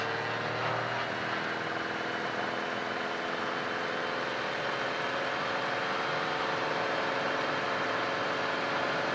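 A Piper light aircraft's piston engine roars at full takeoff power after brake release, a loud, constant droning hum with a steady buzzing tone that holds unchanged throughout, close by and without any talk.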